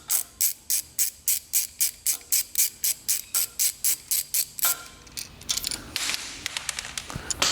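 Rapid, even ratcheting clicks from a Koken ratchet on a wobble extension, tightening titanium header exhaust fasteners on a Porsche 992 GT3, about twenty close bursts in steady rhythm before giving way to softer rustling and handling noise.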